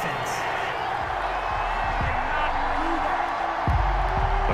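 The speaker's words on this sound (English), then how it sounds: "This crowd does not like that call." A stadium crowd in the Madden 21 football game, Giants at Cowboys, reacts to a roughing-the-passer penalty with a steady, sustained roar that holds at an even level throughout.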